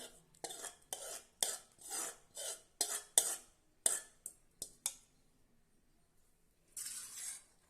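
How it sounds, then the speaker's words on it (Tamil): Repeated scraping and tapping of a utensil against a pan while mashing roasted eggplant, in an uneven rhythm, pausing, then one longer scraping stir. "நல்லா ஒன்றா மறுபடியும் மசிச்சு கலந்து விட்டுறலாம்"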